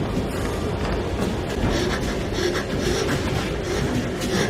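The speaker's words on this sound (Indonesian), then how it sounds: "Para tawanan ini dibawa menggunakan kereta api lintas benua." A transcontinental train rolls along in a continuous rumbling drone of wheels and carriages, moderately loud and steady, with a light rattling texture and no talking.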